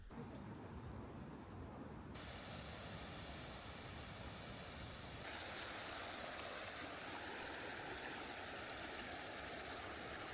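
A clear city river in Kyoto flowing steadily, giving a broad, constant rushing wash of water that grows fuller and brighter partway through, with no talk.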